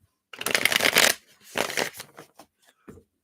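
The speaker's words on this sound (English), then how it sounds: "Just going to shuffle these up." A deck of reading cards shuffled by hand, three quick riffling bursts, the first longest, close and clear with no talk.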